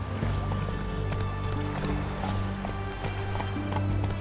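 Roach, a horse in The Witcher 3, runs with steady clip-clop hoofbeats over a continuous game soundtrack, with a faint voice now and then.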